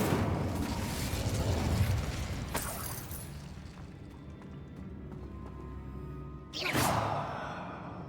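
Incendio fire spell cast in Hogwarts Legacy: a fiery whoosh and rumble, then a second sharp burst of flame a few seconds later, moderately loud against quieter game ambience.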